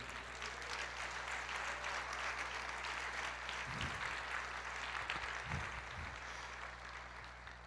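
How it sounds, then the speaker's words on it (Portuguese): Steady applause from a church congregation, a continuous dense wash of clapping at moderate distance, holding level for several seconds with a low hum underneath. "Você pode aplaudir o Senhor?"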